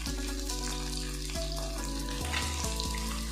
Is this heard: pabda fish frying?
yes